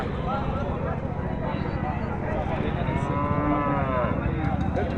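A cow lets out one long, low moo amid constant crowd chatter and outdoor bustle at a cattle market.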